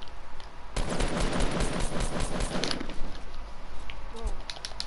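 Rapid bursts of video game gunfire crackle in a dense, loud stretch after a quiet opening, then give way to scattered single shots and sharp clatter as the fight goes on.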